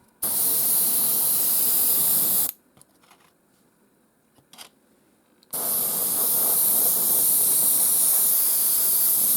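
Aerosol spray paint hisses onto wargaming terrain in thin coats: two long, steady bursts separated by a few seconds of near silence with faint handling noises.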